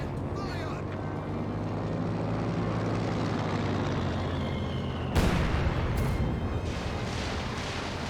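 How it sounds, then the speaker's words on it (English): A Stuka dive-bomber barrage in Company of Heroes 2: a steady aircraft drone with a descending whine runs under constant battle noise, then a sharp blast and a few further crisp impacts break through near the end. "Stukas Fus barrage raiding on in."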